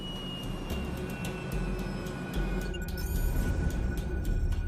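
A jet airliner on approach toward an airport, its steady engine rumble and a faint high whine running continuously and fairly close, with no voices present.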